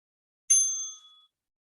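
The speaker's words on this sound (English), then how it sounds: "And there's your first bell." A single bright ding from a workout interval timer bell, sounding alone with a clear ringing tone that fades out over about a second.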